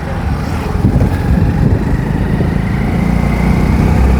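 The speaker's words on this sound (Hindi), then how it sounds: "बाइक को भगानी पड़ेगी 60 से 70 की स्पीड पर।" A motorbike ridden at around 60 to 70 km/h on a courier delivery run, its engine a steady, continuous drone mixed with wind rush against the microphone, with no speech.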